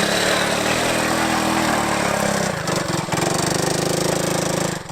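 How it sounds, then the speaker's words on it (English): A worn-out 125 three-wheeler engine labours up a hill, a loud, continuous close-up rasping drone that dips briefly partway through and then picks up again. "I thought I'd hop on the three-wheeler and give it a fair shot at the hill."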